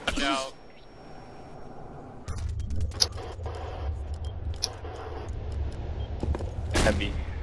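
Scattered gunshots and crackling fire in a multiplayer shooter game match on the Rig map, sharp bursts at irregular intervals over a rumbling background, with a player's voice speaking briefly at the start.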